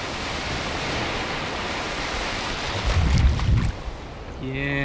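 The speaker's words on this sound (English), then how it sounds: "here comes a wave right now." Ocean surf at Khanom beach in Thailand, a steady broadband wash of water with one wave swelling and breaking close by near the end.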